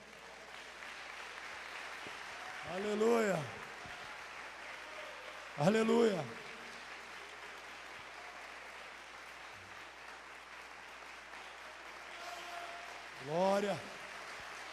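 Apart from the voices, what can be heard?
congregation applauding in church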